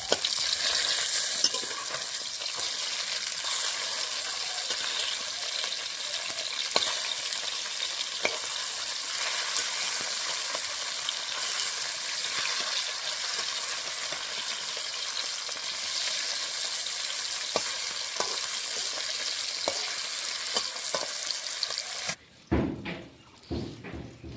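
Bata fish frying hard in hot oil for a poppy-seed dish sizzles in a loud, steady, close crackle with occasional stirring clinks, then stops abruptly near the end as the pan is taken off.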